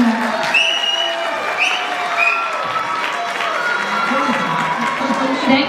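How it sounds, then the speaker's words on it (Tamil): An audience claps steadily for the contestants of a traditional Pongal cooking competition, a dense even patter with voices and cheers rising over it throughout. "இவங்க எல்லாருக்கும் ஒரு பெரிய கைத்தட்டல் கொடுக்கணும்."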